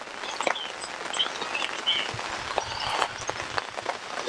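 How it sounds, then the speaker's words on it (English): Rain falls steadily at a lakeside carp fishery, pattering on surfaces with scattered close drops and light ticks, and faint bird calls in the background. "Raining, isn't it? It's raining, it's pouring."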